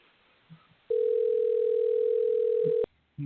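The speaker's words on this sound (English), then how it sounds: "We're calling our guest now." A steady electronic telephone tone sounds for about two seconds at a talk-radio barbershop show as a call goes out to a guest. It is loud and unbroken, with faint background murmurs before it and a short click as it stops.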